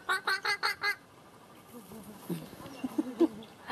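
A bird imitating laughter: four loud, evenly spaced, harsh bursts, followed by quieter scattered low croaks and clucks.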